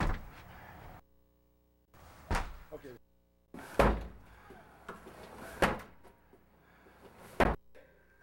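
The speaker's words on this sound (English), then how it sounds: "Let's have our 85-year-old sprite deploy the Linebacker and we'll try to kick in the door." Repeated heavy kicks against a door held shut by a Linebacker articulating door bar: five loud, sharp thuds spaced a second or two apart, each with a rattling crash, and short quiet gaps between some of them.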